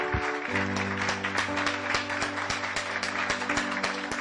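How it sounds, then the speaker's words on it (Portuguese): Church congregation applauding after a sermon, a lively round of clapping with dense, overlapping claps at steady volume, over a sustained organ-like musical tone that continues beneath the hands. "Vamos mais uma vez dar uma salva de palmas para ele."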